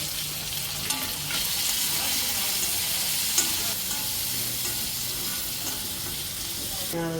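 Garlic, onion, fennel, cumin and curry leaves sauté in a pan for a village-style country chicken curry, producing a loud, continuous crackling sizzle with a few stirring knocks and no talk.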